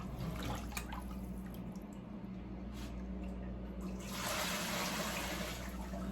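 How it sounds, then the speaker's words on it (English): Steady broth pouring and trickling close by through a fine strainer, a continuous watery rush that swells louder toward the end, with a low hum underneath. "You can hear it pouring in there."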